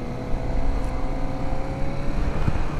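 A 2024 Kawasaki Ninja ZX-4RR inline four-cylinder engine runs steadily with a stock exhaust, a constant low droning hum with no voices.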